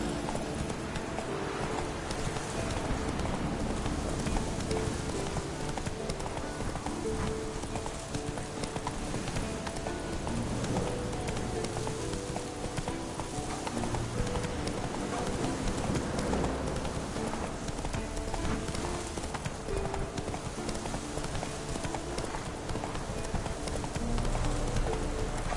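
A horse gallops in the video game The Witcher 3, its hoofbeats drumming steadily and continuously throughout over a rain-like background wash.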